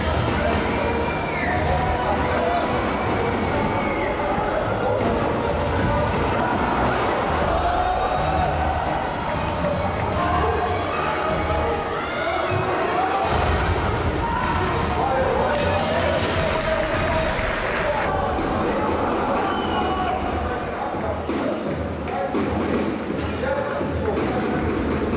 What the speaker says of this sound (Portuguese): Palmas da torcida pro time.